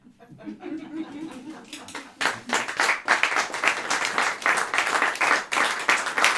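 A live audience breaks into sustained applause after a spoken performance, a dense wash of clapping that swells within a couple of seconds and stays loud and steady to the end, with a few chuckles mixed in.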